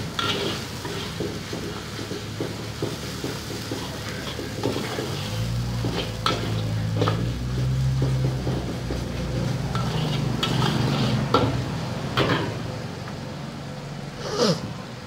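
Chili paste fries in hot oil for spicy sardine rice with a continuous close sizzle, while a spoon stirs and scrapes against the pan at irregular moments throughout.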